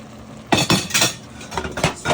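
A metal utensil scrapes and clinks against a cooking pan as cooked shrimp are lifted out one at a time, a series of close, sharp knocks and scrapes heard alone.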